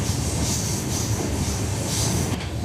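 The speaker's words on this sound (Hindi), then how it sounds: "फिलहाल हमारी ट्रेन मेन लाइन से स्किप कर रही है मोहन नगर रेलवे स्टेशन को" A train runs steadily along the main line through Mohan Nagar railway station, with a continuous loud rumble and wheel noise close by and no pauses.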